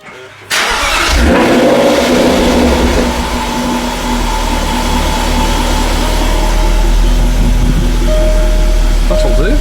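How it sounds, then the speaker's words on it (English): A car engine cranks and fires up in a confined space, then settles into a loud, steady idle with occasional revving, all of it close and echoing off nearby walls. "now to turn the wheel back round, which requires starting the engine in a confined space"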